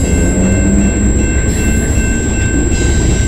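BNSF and Union Pacific freight locomotives roll past on the Dundas Sub in London, Ontario, a loud, steady rumble of wheels and engines with a continuous rail roar and faint high whine throughout.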